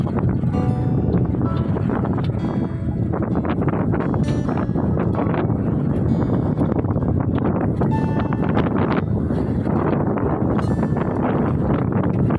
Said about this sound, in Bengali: হাওয়াটাই তো ব্যাপক।